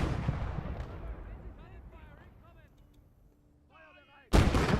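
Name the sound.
mortar fire in the video game Gates of Hell: Ostfront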